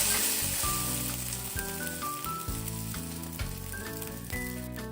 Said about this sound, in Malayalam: ഇനി നമുക്ക് ഈ മുട്ടയുടെ മിക്സിൽ ബ്രെഡ് 2 സൈഡ് നന്നായിട്ട് ഡിപ്പാവുന്ന രീതിയിൽ ആക്കി കൊടുത്ത് നമുക്ക് പാനിലേക്ക് വെക്കാം.